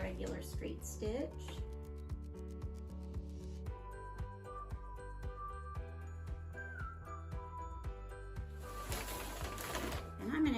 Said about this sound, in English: So about a half inch across the bottom with a regular straight stitch.